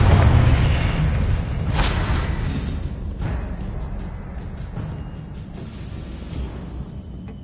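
A single deep magical blast from the Confringo spell in Hogwarts Legacy opens loud, then rolls into a long fading rumble with scattered crackling debris and no talk.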